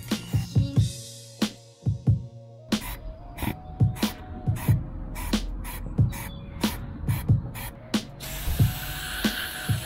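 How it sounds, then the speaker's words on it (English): Short bursts of aerosol cleaner spray hiss repeatedly in an irregular rhythm as a spray-paint cap is cleaned, with small clicks and taps of handling between the sprays. "Get one of these cleaner cans or acetone cans and just spray it clean."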